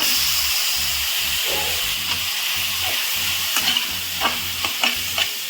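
Onions sautéing in a pan before potatoes go in, a dense steady sizzle with rhythmic scraping stir strokes and a few sharp clinks of a spoon near the end.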